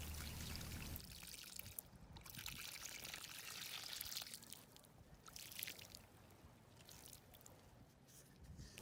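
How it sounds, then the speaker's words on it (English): Water tipped from a bucket onto beach sand, a continuous splashing pour that trickles and fades in and out over several seconds, fairly quiet against outdoor background noise. "Let's pour it out right here."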